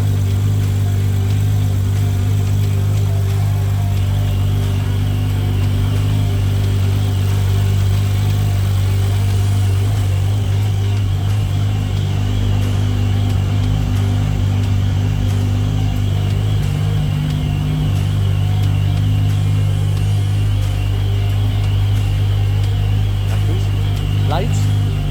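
A loud track car engine rumbles steadily close by, idling deep with slight swells in revs throughout, and no other sounds stand out.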